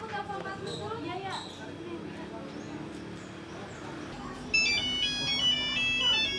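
A telephone ringtone begins partway through a Javanese comedy sketch, playing a bright repeating melodic tone loudly over background voices and room noise.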